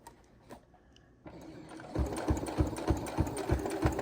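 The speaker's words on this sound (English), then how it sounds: "I am stitching on the bottom of that binding a little more often than I would like" Sewing machine stitching along quilt binding, starting quiet, then running in a loud, close, rapid rhythmic chatter of needle strokes for the last two seconds.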